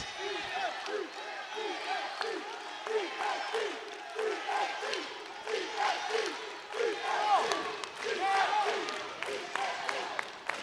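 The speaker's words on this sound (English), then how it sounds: "And the crowd is chanting" A large crowd chants in steady rhythmic waves of massed voices at the Pro Cheer League Championship in Nashville, a cheerleading competition; the chant carries loud and continuous for about ten seconds with scattered shouts rising above it.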